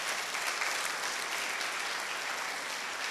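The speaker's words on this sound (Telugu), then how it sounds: "అలాంటి లీడర్స్ అందరికీ కూడా ఒకసారి బిగ్ రౌండ్ ఆఫ్ అప్లాజ్." Steady, dense applause from an audience at a carnival celebration event for a direct selling company, loud and continuous throughout with no gaps or speech.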